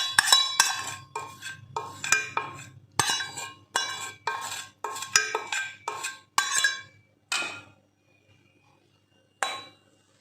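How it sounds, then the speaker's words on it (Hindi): A metal saucepan is set down on a kitchen stove while making caramel egg pudding, with a series of bright clinks and knocks of cookware in an uneven rhythm before it falls quiet. "जी ये सॉस पैन ने चूल्हे पर रखा।"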